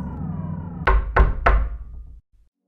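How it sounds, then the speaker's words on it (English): Three heavy, evenly spaced knocks on a door, close and loud with a booming low thud, trailing off over a lingering tonal hum before cutting to silence. "the blogger heard a knock on his door"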